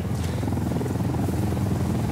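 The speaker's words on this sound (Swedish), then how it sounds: "Helikopter." A helicopter in a video game, a steady loud rotor and engine roar filling the whole stretch without pause.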